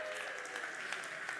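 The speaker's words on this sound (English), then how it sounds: "A round of applause, please." Audience applause at a Michelin Guide awards ceremony, a dense, steady clapping from a large crowd filling the room throughout.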